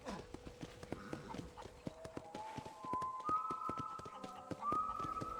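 Horse hooves clip-clop at a steady trot while riding in the Red Dead Redemption video game, close and rhythmic beneath sustained musical tones.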